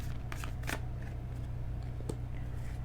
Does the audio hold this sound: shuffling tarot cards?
yes